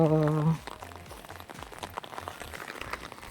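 Light rain pattering on an umbrella while walking outdoors in the UK, a steady soft patter with footsteps beneath it; a voice speaks briefly at the start.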